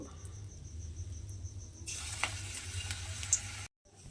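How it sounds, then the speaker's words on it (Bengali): Small cauliflower leaf pakoras frying in hot oil give a steady, fine crackling sizzle that starts abruptly partway through, after quieter background hum, then cuts off briefly near the end. "আবারও কিন্তু ওই তেলের মধ্যে এইভাবে ছোট ছোট করে পকোড়ার মতো দিয়ে সবগুলোকে আমি ভেজে নেব"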